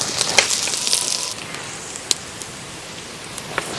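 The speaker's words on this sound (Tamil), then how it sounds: "ரெண்டு பச்சை மிளகாய்ங்க கூடவே கருவேப்பிலை இதே சேர்த்து நல்லா வதக்கலாம்" Onions, green chilies and curry leaves sauté in a pan for a beetroot gravy, giving a steady crackling sizzle with sharp pops scattered throughout.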